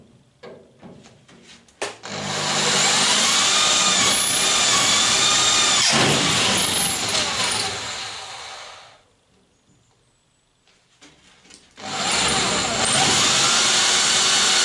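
Power drill boring through sheet metal clamped with a small press on a Citroën Traction 11B body, a loud sustained whine lasting about seven seconds, then a pause and the drilling starts again close by.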